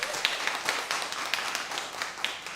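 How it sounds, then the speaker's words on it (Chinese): Church congregation clapping for young people who have just come up on stage, a light, fairly sparse scatter of hand claps, moderately quiet and fairly even, with no talking. "那我们也给这些刚刚上台的青年们，给他们掌声鼓励"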